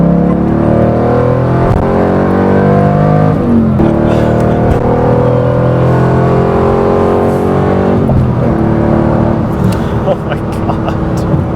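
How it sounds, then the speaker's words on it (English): A 1991 Corvette ZR-1 with its 375-horsepower LT5 V8 revs hard and climbs through the gears, a loud, close, sustained engine roar that rises in pitch, drops at shifts and keeps pulling, heard from inside the car. "This car just kept revving and revving and revving and going and going and going"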